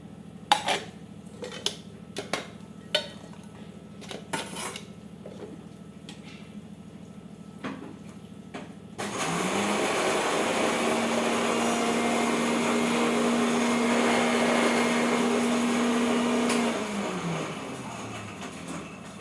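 A kitchen mixer grinds onion, coriander leaves and stems, ginger, garlic and green chili for corn pakoras, whirring loudly and steadily for several seconds after a run of light dish and utensil clinks, then spinning down.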